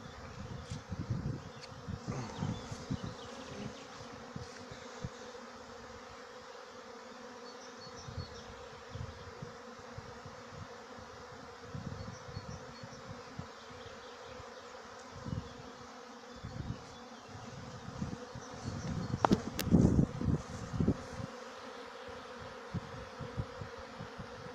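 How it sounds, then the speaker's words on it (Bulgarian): Bees fly around a row of beehives outdoors, giving a steady, faint buzzing drone with individual insects zipping close past now and then, louder near the end, and no one speaking. "Дано се вижда добре за какъв летеж става въпрос и на първите два, и на следващите кошери от този план."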